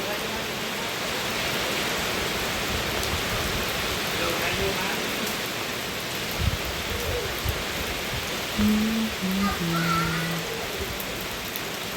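Steady, hissing rain falls heavily and evenly, with a few faint tonal sounds and brief murmurs breaking through near the end.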